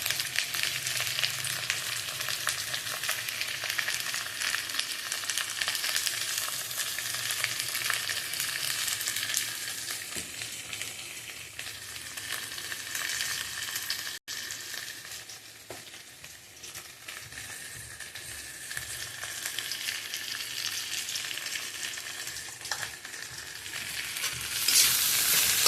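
Ground spices with ginger and garlic sautéing in a pan, a dense steady sizzle close up that swells and eases slightly over time, with faint occasional stirring and no voices.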